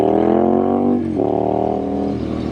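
A Triumph Street Scrambler 900 motorcycle revs strongly up close, its engine note steady and loud through the pipes, dipping briefly before climbing again.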